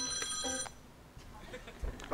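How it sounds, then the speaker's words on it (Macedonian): A vintage-style retro telephone rings in short, bright bursts near the start, then fades back under a room where people are talking. "таков е ретро телефон"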